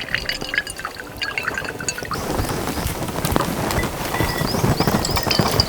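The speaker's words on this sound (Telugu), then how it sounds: "ముందు నీళ్ళు తీసే ప్రయత్నం చేద్దాం" Water pours out of a container in a trickling, splashing stream that starts light and swells into a fuller, steady gush after a couple of seconds.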